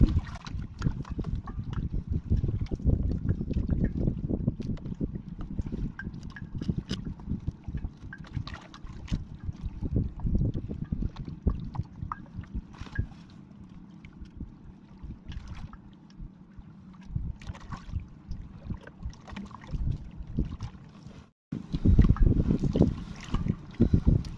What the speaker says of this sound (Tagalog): ito nga lumalakas na rin yung hangin